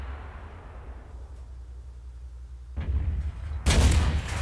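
A tank cannon fires in the World of Tanks video game, a single sharp booming shot near the end that follows a quiet low rumble and a smaller thud.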